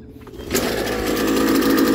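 A YADAO 3.5HP two-stroke water-cooled outboard motor fires up after a half-second of quiet and runs on with a loud, close, steady buzzing drone that holds to the end.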